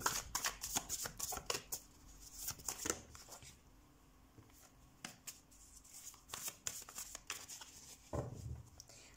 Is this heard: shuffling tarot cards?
yes